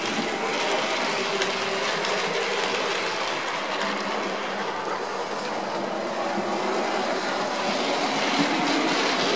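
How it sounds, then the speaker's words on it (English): A train runs past on rails with a steady, dense roar and faint clickety-clack, loud and sustained the whole time with no voices. "This train was actually, well, not this actual train, but the real one, was built in 1903."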